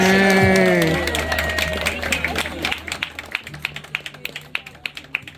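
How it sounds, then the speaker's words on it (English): Audience applause for Santa aboard an Antarctica cruise ship at Deception Island, starting under a voice and settling into scattered, sparse claps that fade toward the end. "Once again, give a big round of applause for Santa here with us."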